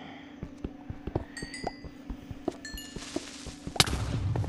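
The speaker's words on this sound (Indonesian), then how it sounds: "tiba-tiba creeper meledak di belakang gua ya" A creeper in the video game Minecraft explodes behind the player with a sudden, sharp blast near the end, after scattered clicks and small in-game sounds, then a rough rumbling tail.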